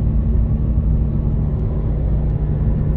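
Car driving at night toward a volcano eruption site, a steady loud low engine and road rumble from inside the vehicle, continuous and even with faint clicks, no talking.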